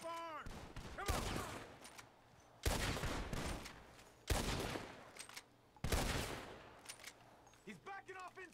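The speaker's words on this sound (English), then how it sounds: "The gunshots are coming from that barn." Gunfire from a barn in Red Dead Redemption 2 arrives as loud, sharp shots and short volleys spaced a second or two apart, each ringing out with a decaying tail, while voices call out between bursts.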